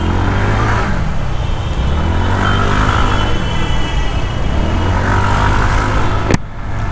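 A TVS Ntorq 150 scooter pulls away from a traffic signal, its engine note rising and cycling under heavy wind rush, loud and continuous throughout, with a sharp click near the end.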